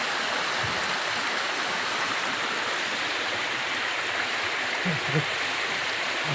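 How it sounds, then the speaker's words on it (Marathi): Steady rushing water pours continuously through a rock gap on a hill fort climb, a dense close roar of flow with a few faint low thumps near the end. "पाणी वाहतोय."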